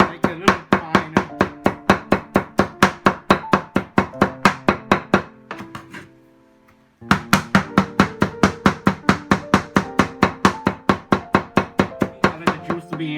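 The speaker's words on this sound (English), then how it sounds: "After that, you could chop, make it a little finer." A knife chops ingredients finer for Hmong sausage in rapid, even strokes on a board, close and crisp, with a brief pause partway before the steady chopping resumes.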